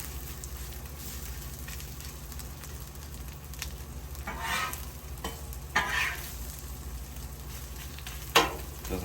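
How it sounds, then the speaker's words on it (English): Pulled pork warms in a pan with a soft, steady sizzle, broken by a few louder crackling bursts and stirring scrapes; there is no talking. "with the pork, we're just trying to heat it up"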